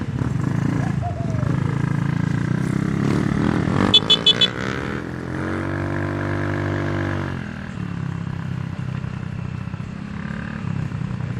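Several mini motorbikes ride past outdoors, their small engines whining and buzzing with a rising then falling pitch as the group passes fairly close, with people talking at moments.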